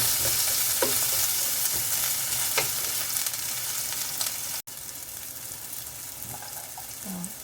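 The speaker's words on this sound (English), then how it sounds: "We're going to stir fry for a few minutes." Masala cabbage and potatoes stir-fry in a pan with a constant close hiss and sizzle, stirring scrapes poking through, and a brief cut in the sound partway through; nobody talks.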